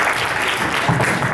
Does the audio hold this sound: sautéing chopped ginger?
no